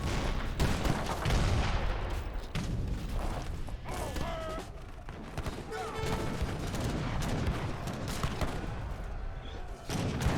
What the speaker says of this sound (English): Got some cannons and mortars in the region.